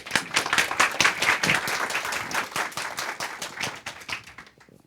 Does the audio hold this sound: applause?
yes